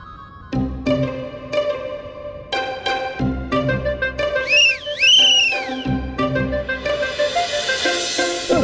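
A man whistles in short, sharp bursts, one rising and falling, among bright tonal music-like sounds in a scene from a superhero TV series.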